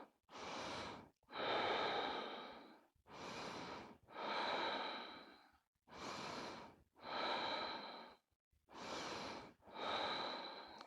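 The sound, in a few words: breathing during a yoga pose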